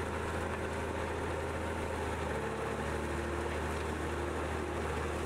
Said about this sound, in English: you will hear me knock it up a notch.